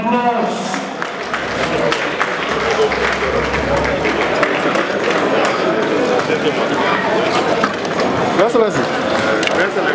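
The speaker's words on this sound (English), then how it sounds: "Please, a round of applause." Crowd at a governor's book launch claps steadily in a dense, continuous burst of applause that holds at an even level, with a voice briefly heard at the start.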